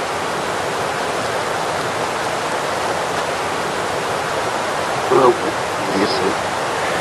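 Loud, steady rush of a waterfall filling the scene, a dense unbroken roar of falling water, with a brief voice or two rising faintly over it near the end.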